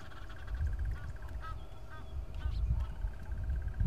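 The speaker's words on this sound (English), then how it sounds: "So the Egyptian geese you can actually hear." Several Egyptian goose honks ring out at intervals, clear but somewhat distant, over a constant low rumble of wind or background noise during a safari drive.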